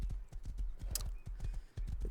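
Horse hooves clip-clop in a steady, close, fairly loud rhythm in the video game Rust, with a brief whinny-like burst midway and no talk.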